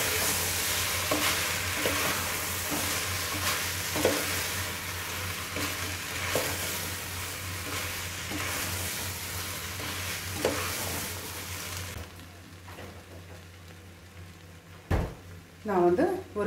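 Cooked rice is stirred and fried in a pan for jackfruit biryani, with a steady sizzle and rhythmic scraping of a spoon for about twelve seconds. The sound then drops off, and a few utensil clatters follow.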